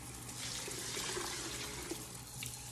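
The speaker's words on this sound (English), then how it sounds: "So we're gonna put 12 cups of water." Twelve cups of water poured from a 4-cup Pyrex measuring cup into a cooking pot in a kitchen, a loud, continuous close splashing gush with no talking.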